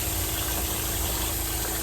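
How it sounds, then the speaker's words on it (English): A water pump runs inside a van, a steady, even whir with a continuous rushing hiss of flowing water, close and unbroken for a brief moment. "running water in a van."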